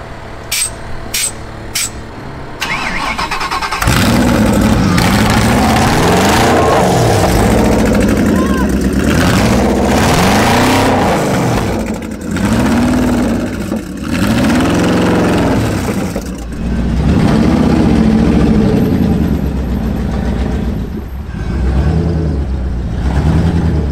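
A strange, unusual-looking car with a rear wing revs its engine loudly and close by, the pitch rising and falling in repeated surges over a steady idle, with a few sharp clicks at the start.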